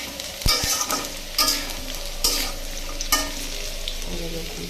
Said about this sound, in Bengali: আরও একটু সময় ভাজবো।